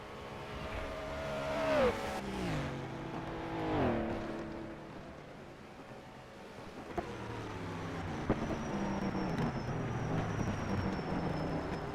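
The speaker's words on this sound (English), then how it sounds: "Watching the Slovenian in his Ferrari." A Ferrari race car on the Longford racing circuit during a historic endurance race, engine revving and shifting through gears with rising and falling pitch, then fading into a lower drone as it moves away.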